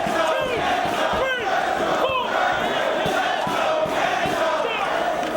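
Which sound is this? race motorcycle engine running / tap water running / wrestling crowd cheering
wrestling crowd cheering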